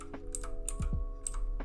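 Rapid clicks of computer keyboard arrow keys while nudging a layer in Photoshop, several light taps in quick succession, close and crisp over a low background hum.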